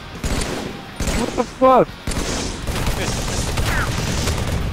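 Video-game gunfire cracks in short bursts between pauses, with someone shouting over it.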